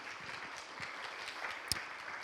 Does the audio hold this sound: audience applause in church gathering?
yes